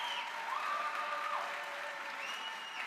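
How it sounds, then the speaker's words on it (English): Audience at a university speaking event clapping for the panel speakers, a fairly faint, continuous patter of applause heard from a distance with a thin tonal whine running through it. "Can we please get another round of applause for our speakers?"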